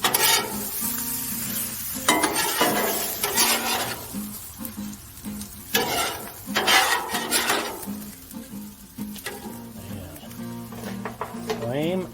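Shrimp sizzle on a Blackstone griddle as they are moved onto noodles, with metal spatulas scraping and clanking in repeated bursts against a steady frying hiss. People talk intermittently over the cooking.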